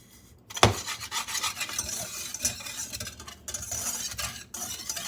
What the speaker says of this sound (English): Whisk all of these together.